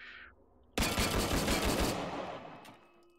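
A long burst of rapid automatic gunfire in Hot Dogs, Horseshoes & Hand Grenades, a virtual-reality shooter, loud and close, emptying a magazine in one continuous stream before a ringing tail.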